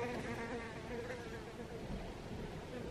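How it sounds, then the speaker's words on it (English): A bee buzzes indoors with a continuous droning hum that stays fairly even throughout and sounds somewhat distant and soft. "Oh my god, it's a bee. It's so loud."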